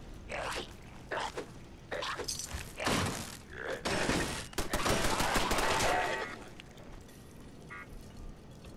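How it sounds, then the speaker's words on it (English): A turret fires in Fallout 4 in bursts of loud, sharp automatic gunfire, separated by short pauses, with one long sustained volley near the middle before things go quiet. "Sounds like there's a turret nearby."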